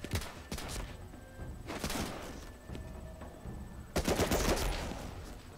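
An American Thompson submachine gun fires in an Xbox shooter game, with short automatic bursts separated by pauses, the last burst loud and sustained, with faint background noise between them.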